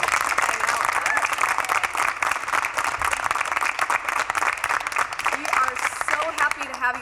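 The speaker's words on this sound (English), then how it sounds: "we want to give you a round of applause for coming" An audience of visiting school groups at a theater for A Midsummer Night's Dream applauds with continuous clapping and some crowd voices underneath, moderately loud and sustained.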